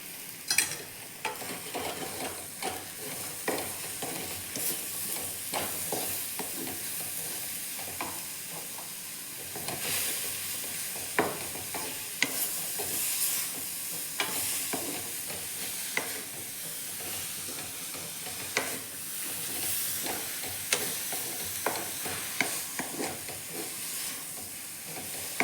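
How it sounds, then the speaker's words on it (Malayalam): Moringa leaf thoran fries in a pan, a soft continuous sizzle with frequent scraping and tapping stir strokes over a long stretch, close and without talk. "നന്നായിട്ടൊന്ന് ഇളക്കി കൊടുക്കുക."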